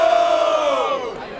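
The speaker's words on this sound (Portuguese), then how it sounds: "Palmas pra essa batalha! Vamos lá! Barulho para as rimas do Felipe!" A large crowd roars and shouts at a freestyle rap battle, the Batalha da Aldeia in Barueri, São Paulo. The cheer is loud and sustained, easing slightly toward the end.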